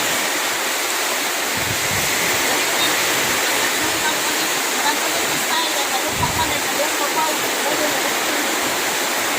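Heavy rain during a typhoon in the Philippines, a loud, dense, steady hiss of downpour filling the whole stretch, with voices faintly under it.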